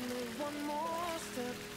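Steady rain falls with a soft, even hiss of drops on a surface, heard alone, with a faint tonal hum running underneath.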